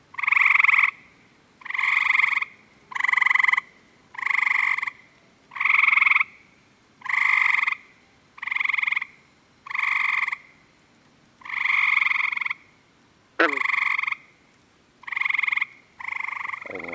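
Green frogs croak at night in a steady series of about a dozen loud, twangy calls, evenly spaced and close by, with a brief sharp click near the end.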